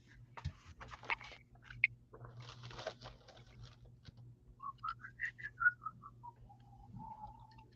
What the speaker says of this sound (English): Is that you whistling?